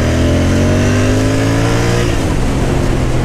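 A Royal Enfield Interceptor 650 motorcycle engine revs loudly and steadily, its pitch sliding gradually lower over a few seconds as the throttle eases, with no talking.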